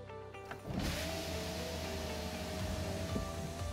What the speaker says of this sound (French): les vitres s'ouvriront de nouveau à la même position qu'initialement